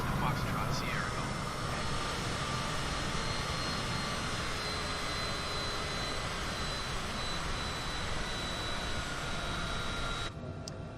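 A simulated Cessna engine in Microsoft Flight Simulator roars steadily at takeoff power on a murky day at Leeds Bradford, a constant loud drone that holds for the whole stretch before dropping away abruptly near the end.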